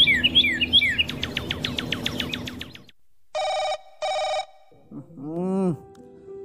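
Two short electronic telephone rings sound in quick succession after a burst of chirping birdsong, followed by a brief sliding tone.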